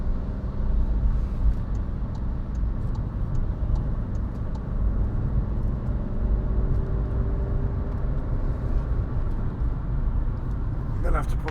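A 2016 Skoda Fabia 1.4 TDI Monte Carlo drives along a road, its low steady engine and road hum filling the cabin continuously, with faint tonal whine drifting in the middle and no talk over it.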